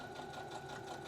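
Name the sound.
sewing machine stitching a seam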